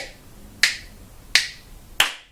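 Evenly spaced single hand claps, three in all, each landing on beat one of a counted four-beat bar in a music lesson; close, bright and isolated with silence between.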